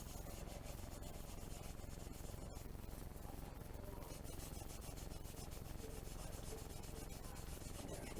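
Steady, close-up sanding of a plastic model kit: a continuous gritty rasp of abrasive rubbing back and forth against a hard surface, with no pauses and no talking.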